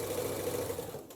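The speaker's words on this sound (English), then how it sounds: "Don't forget to backstitch" Sewing machine backstitching fabric for an apron, a brief steady mechanical whir with a fast rhythmic hum, close and continuous, slowing at the very end.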